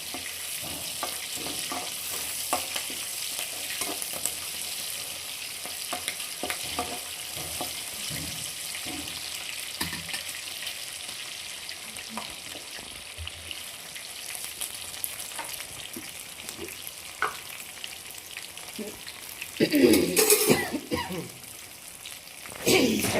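Garlic, green chili, dried chili and curry leaves sizzle steadily in hot oil for a tempering, a continuous crackling fry with occasional stirring scrapes and a louder burst near the end.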